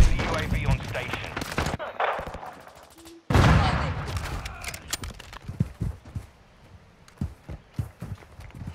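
Gunfire in the video game Call of Duty: Modern Warfare II, with loud bursts of automatic fire followed by scattered sharp single shots at varying distances and a brief gap of near silence between bursts.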